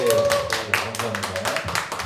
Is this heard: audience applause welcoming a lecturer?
yes